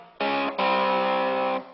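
Distorted electric guitar plays a section of a riff with power chords: a short chord, a brief break, then a long sustained chord ringing loud and close before it stops.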